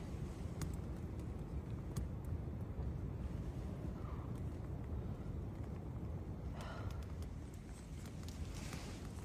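Wind rushing around a cot tent at night, a continuous low roar with occasional faint flaps and ticks of the fabric.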